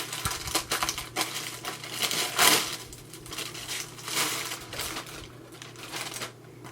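A small plastic makeup bag being handled, producing close crinkling, rustling and crushing noises in irregular bursts with short pauses between them and no voices.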